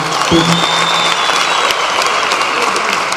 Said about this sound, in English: That surely does deserve another round of applause and a standing ovation.